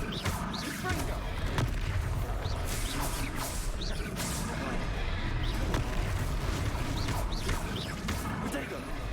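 Explosive Confringo spell blasts go off in the Hogwarts Legacy video game, with repeated booming impacts in a dense, busy battle mix. A voice speaks over the fight.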